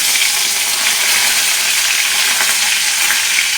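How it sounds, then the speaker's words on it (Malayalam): Curry leaves sizzle in hot coconut oil with popped mustard seeds while tempering for a jackfruit seed and mango curry, a steady, loud, close crackling hiss that runs unbroken with no talk. "കടുക് പൊട്ടിക്കഴിഞ്ഞ് വേപ്പിലിടുക."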